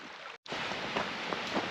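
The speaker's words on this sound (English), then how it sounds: "I can hear the waterfall up in there." Distant waterfall on a snowy woodland hike, a soft steady broadband rush of falling water, faint and continuous, briefly cut out for an instant with no talking.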